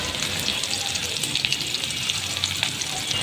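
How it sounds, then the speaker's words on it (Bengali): A bay leaf, whole cumin and chopped onion sizzle in hot oil left over from frying potatoes, making a steady bright hiss with fine crackling all the way through. "আলু ভেজে রাখা তেলের মধ্যেই আমি দিয়ে দিচ্ছি একটা তেজপাতা গোটা জিরা আর সামান্য পেঁয়াজ কুচি"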